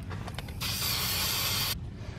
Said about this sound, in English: So we're gonna spray paint this area.